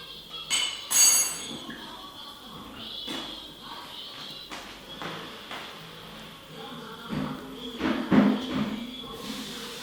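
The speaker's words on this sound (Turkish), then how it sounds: "ocaktan almış olduğum tatlımın tamamını kalıbıma ilave ediyorum" Cooked dessert poured from a pot into a water-rinsed mould, with scattered metallic clinks and light knocks of cookware over a quiet kitchen background, some louder taps near the end.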